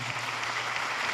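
Audience applause for Professor Chirumira at a university vice-chancellor search event, a dense continuous clapping filling the whole moment, loud and sustained.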